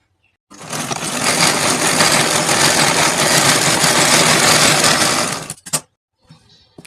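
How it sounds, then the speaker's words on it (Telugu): A sewing machine stitching blouse lining cloth, a loud continuous close-up mechanical whir running for about five seconds, then stopping with a couple of brief clicks. "ఈ సైడ్ లైనింగ్ క్లాత్ పైన ఈ అజ్జి తగినట్టుగా అజ్జి దగ్గరగా ఇలా ఒక కుట్టు వేసుకోండి"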